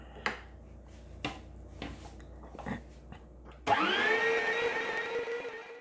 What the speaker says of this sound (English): the meat through the grinder once, and now I'm going to do it for the second time